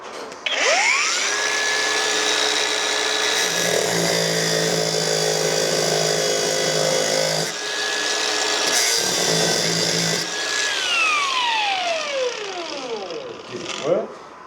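A power tool grinds a slot into the head of a seized screw on an MG Midget engine, a steady loud whine with a rising pitch at the start and a falling pitch near the end, the tool's tone shifting under load midway.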